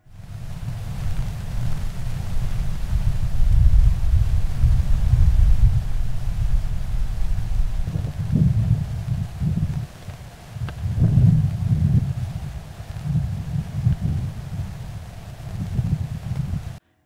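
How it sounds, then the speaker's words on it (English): A low, heavy wind rumble buffets an outdoor boom microphone, loud and booming with gusts that swell, drop away briefly and return. "the low rumble of the wind is overpowering your desired audio source, such as dialogue"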